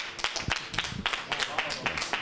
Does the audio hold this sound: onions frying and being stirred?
no